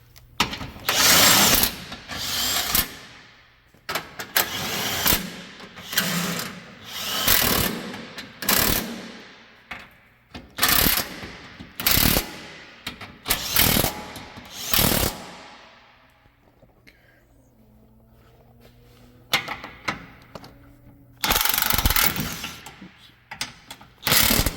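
Rapid bursts of ratchet clicking while bolts are tightened during a clutch job, loud and close, coming in repeated runs with short pauses and a quieter stretch of softer mechanical noise in between.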